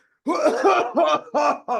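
A series of harsh, voiced coughs imitating an older adult's chesty cough, four in quick succession, close and loud.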